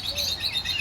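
A ringneck parrot gives a brief run of high chirps, fairly close and moderately loud, with no talk over it.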